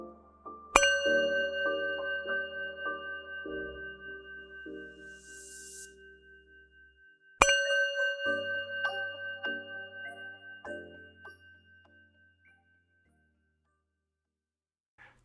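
Two meditation chimes are struck several seconds apart. Each clear metallic ring sustains and slowly fades, leaving quiet at the end in a calm yoga nidra setting.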